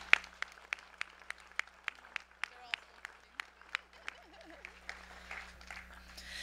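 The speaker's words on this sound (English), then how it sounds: "Let's give them a round of applause." Sparse, scattered clapping from an audience at a 2017 undergraduate research awards ceremony, individual claps distinct and fairly quiet in a hushed hall, fading toward the end.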